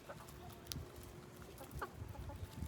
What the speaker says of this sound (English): I just love watching these chickens eat.